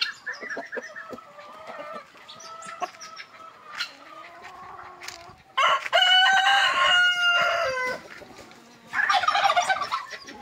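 A rooster crows and other farmyard poultry call nearby, among mixed backyard birds, chickens and ducks. Clucks and gobbling sounds come first, then two loud, drawn-out crows up close, with no talking.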